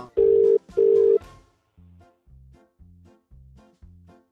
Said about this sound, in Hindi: हितेश रुको फोन करना पड़ेगा